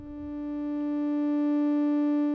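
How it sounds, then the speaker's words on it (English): A steady triangle-wave synthesizer oscillator tone with a soft, hollow timbre holds one pitch throughout, sounding alone and clean at moderate loudness. "They are both set to a triangle wave."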